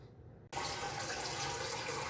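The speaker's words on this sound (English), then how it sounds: "You just have to open the water supply there first to check if it leaks anywhere here." A hand-held bidet's water supply is opened and water bursts into a strong, steady hiss, loud and continuous after a brief quiet moment with no talking.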